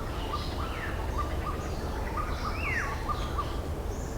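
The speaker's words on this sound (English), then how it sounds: "I don't know if you can hear the bird calls in the distance," Distant birds call in a mangrove forest over a steady wash of insect or ambient noise. Short repeated chirps are joined by one rising, siren-like whistle, and the calls sound faint and far off.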